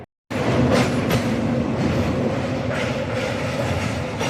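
A local train on the Howrah to Digha line crosses the Rupnarayan river, a steady loud rumble with clickety-clack of wheels on the bridge after a brief silent start.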